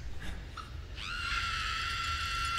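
Amanda, a character in the video game LEGO Jurassic World, lets out a long, loud, high-pitched scream that starts about a second in and holds steadily to the end over a low background rumble.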